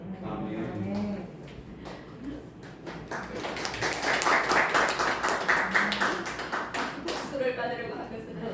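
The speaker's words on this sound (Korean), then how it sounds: "박수를 받으려고 한 것은 아닌데" Applause and clapping from a church congregation swell over several seconds after a Christmas poem reading, with some voices and room noise mixed in.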